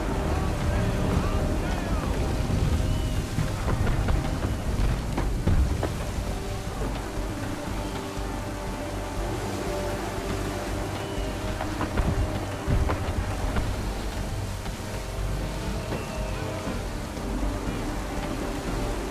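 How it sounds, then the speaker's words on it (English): A thunderstorm with heavy rain, wind and crashing waves surrounds a sailing ship at sea in Assassin's Creed 3, a dense continuous roar with low rumbles throughout. "There's a storm coming, Captain."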